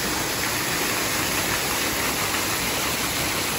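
Waterfalls on Discovery Island at Disney's Animal Kingdom rush steadily, a loud, dense, unbroken wash of falling water close by with no pauses.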